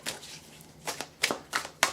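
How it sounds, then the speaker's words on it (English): Several crisp riffling bursts of tarot cards being shuffled, close and fairly quiet, coming in irregular quick flurries with short pauses between. "We're going to shuffle the Wizard's Tarot"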